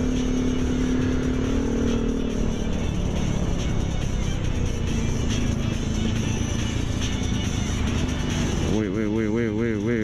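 A motorcycle riding along the road, its engine droning steadily underneath continuous talk from the rider, with rushing wind noise and a pitch shift near the end.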